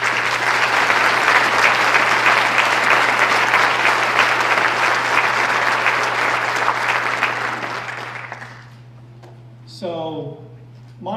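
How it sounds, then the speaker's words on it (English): An audience at a Wreaths Across America convoy event gives a long, loud, sustained round of applause over a steady electrical hum, which tapers off before a voice starts speaking. "So please, ladies and gentlemen, a round of applause for the family."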